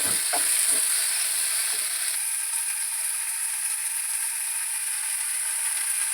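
Mushrooms sizzle in a pan with onion masala, a steady hissing fry throughout with a few stirring clinks at the start, close and alone.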